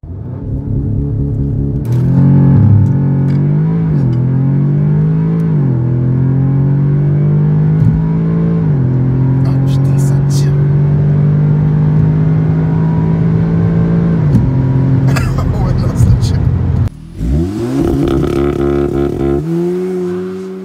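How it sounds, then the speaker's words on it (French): An Audi S3 with a Stage 1 tune and 375 hp does a launch control start: the engine holds a loud droning rev, then climbs through rising pitch sweeps with gear shifts and a brief drop near the end, close and powerful. "Là les amis, on va faire un petit launch control."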